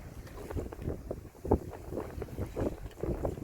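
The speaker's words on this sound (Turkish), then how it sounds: "rüzgar esiyor" Gusty wind at sea buffets the microphone in uneven surges, with water sloshing against a sailing boat's hull underneath.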